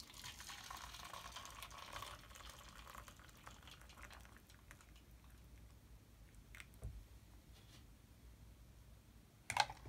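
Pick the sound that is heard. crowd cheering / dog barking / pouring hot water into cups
pouring hot water into cups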